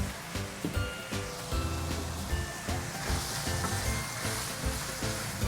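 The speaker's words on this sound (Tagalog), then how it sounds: "Gigisa ko lang ito hanggang sa magkulay brown lang yung karne." Pork hock sizzling in a pan with onion and ginger during a Filipino sauté, a steady moderate crackle and hiss that runs unbroken without talk.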